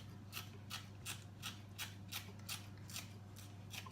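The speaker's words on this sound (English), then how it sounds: "I just cut them up with the scissors" Scissors snipping a bunch of spring onions into small bits for a pizza topping, a steady run of about ten crisp cuts spaced evenly over a low background hum.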